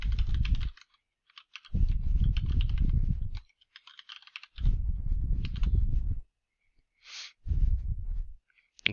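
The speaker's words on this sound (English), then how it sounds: "I like to drag this window down so I can actually see the text as I type it in." Fingers tap out text on a computer keyboard in quick bursts separated by short pauses, the key clicks sounding close and crisp.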